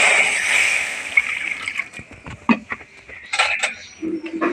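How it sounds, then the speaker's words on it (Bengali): Water poured into a wok on the stove for cooking taro leaves (kochu shak), with splashing and sloshing, then clinks of the pan and utensils near the end. "কড়াইটা বসিয়ে দিয়েছি এবার কচু শাকটা রান্না করার জন্য এবারে দিয়ে দেবো পানি"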